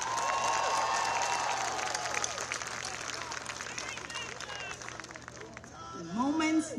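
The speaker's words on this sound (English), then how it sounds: "Please join me in applauding these students for their academic accomplishments." Audience applause at a Class of 2022 university commencement, broad steady clapping filling the hall with crowd murmur, fading near the end as a voice begins over it.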